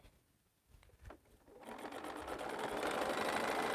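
A sewing machine stitches quilt pieces together, starting with a few soft taps and then running steadily and loudly for a couple of seconds, close and unaccompanied.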